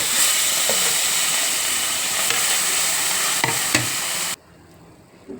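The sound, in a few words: frying rupchanda fish in oil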